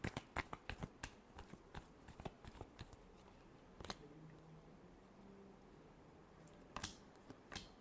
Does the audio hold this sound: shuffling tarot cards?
yes